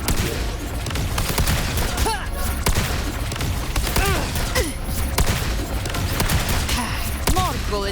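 Rapid bursts of gunfire and booming impacts fill combat in the video game Wuthering Waves, dense and continuous with layered music and effects, punctuated by rising whooshing tones.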